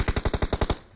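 Rapid automatic gunfire in PUBG Mobile, a burst of about eight loud, evenly spaced shots in under a second, then a short fading tail with no voices.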